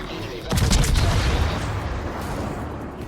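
Warship guns fire in a naval video game, a heavy booming volley that bursts in at once and rolls off into a long fading rumble.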